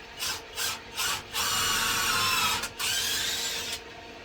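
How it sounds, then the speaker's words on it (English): Drill boring a pilot hole and countersinking it in a 2x4 for a workbench build, heard as a few short rasping bursts followed by a longer steady grinding run with a brief pause, close and fairly loud. "then you want to pre-drill your hole. I countersink them that way."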